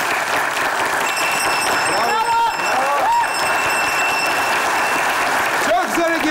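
A studio audience applauds steadily on a Turkish comedy show, a dense continuous patter of clapping with a few bright tonal sounds and a voice rising over it.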